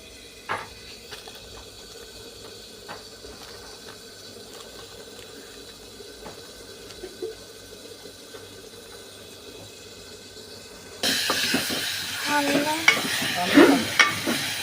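Potatoes cook in a pan with a low, steady sizzle, then a louder burst of frying and splashing near the end, close by with no one talking.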